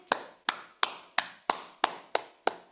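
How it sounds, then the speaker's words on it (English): Eight evenly spaced hand claps ring out one after another in an online class session, each a sharp close slap with a quick decay and no talking between them. "let's clap for our Portuguese teacher who's so good"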